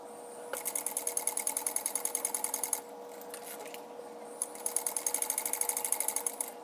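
A sewing machine stitches a seam on a crossbody bag in two steady runs of rapid even needle beats, separated by a short pause, close up and with no one talking.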